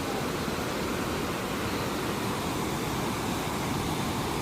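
Kalu waterfall in Maharashtra roars in a steady, loud, unbroken rush of falling water, its spray blown upward by strong wind, with no voices.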